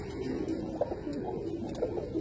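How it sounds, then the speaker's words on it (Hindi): Pigeons from a prized bloodline in Sialkot coo in low, soft, rolling calls that repeat and overlap against a steady background hum, with no talk. "मैं आज आपको अपने फेवरेट ब्लड लाइन के कबूतर दिखा रहा हूँ"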